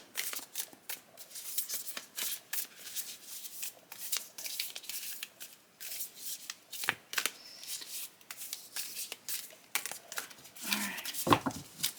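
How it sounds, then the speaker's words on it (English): A Star Trek: The Next Generation tarot deck being shuffled by hand, quiet repeated riffling and card slaps in irregular bursts, close and alone. "What does the viewer need to think about right now?"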